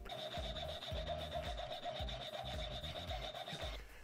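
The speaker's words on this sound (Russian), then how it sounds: "теперь разрежу заготовку ровно на две половины" A hand saw cuts a wooden bottle-opener blank in half with quick, regular back-and-forth rasping strokes, about two per second, close up and alone, ending abruptly.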